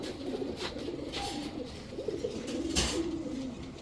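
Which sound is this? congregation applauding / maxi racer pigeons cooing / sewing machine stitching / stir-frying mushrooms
maxi racer pigeons cooing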